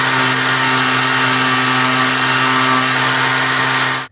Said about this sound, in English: the sanding disc is thinner, so I should be able to get in here like this and sand it